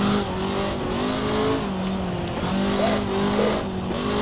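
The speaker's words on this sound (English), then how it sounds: "Oh, but that motor does really sound tasty though, doesn't it?" A Mercedes SLR 300 racing car drifting in Assetto Corsa, its engine howling loud and continuous with rising and falling revs and a touch of tire squeal.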